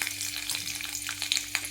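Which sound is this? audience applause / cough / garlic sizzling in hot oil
garlic sizzling in hot oil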